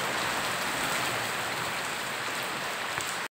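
Steady rain falls on surfaces nearby, a dense even patter of drops filling the whole stretch without pause before cutting off abruptly at the end.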